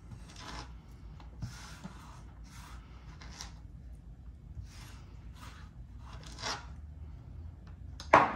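Hands rub and scrape across a kitchen cutting board in soft, repeated swishing strokes, faint and close, with short pauses between passes and a sharper knock at the end.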